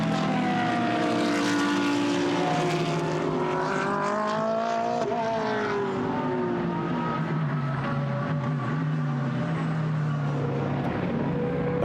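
GT race cars from a Blancpain GT Sports Club qualifying session at Silverstone, including a Ferrari, roar continuously with engine notes rising and falling as they pass through corners, with no talk.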